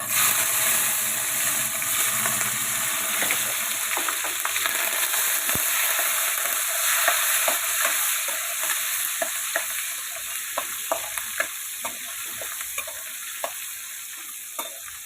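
Tomatoes, green chillies and curry leaves sautéing in a pan for a bottle gourd curry, a steady bright sizzle with clicking stirs of a spoon growing more frequent, close up and without speech.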